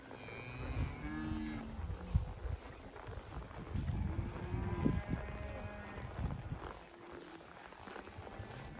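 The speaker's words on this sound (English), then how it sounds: "Cattle everywhere." Cattle moo repeatedly, several low drawn-out calls overlapping from different distances over a soft outdoor background.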